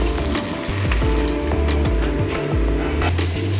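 Fish heads sizzle and sputter in hot oil in a pan, a loud, continuous frying crackle with rhythmic scraping and clacking as they are stirred and turned.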